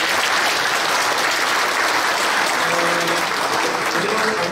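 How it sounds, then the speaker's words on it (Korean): A church congregation claps together at a 70th anniversary thanksgiving service in Masan, Korea, dense continuous applause filling the hall at full volume, with a few voices faintly underneath near the end. "박수합니다."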